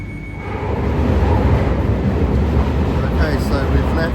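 A London Underground Northern Line train running toward High Barnet, a loud steady broadband rumble and roar that rises in the first half second and then holds, with wheel-and-track noise throughout and no talk.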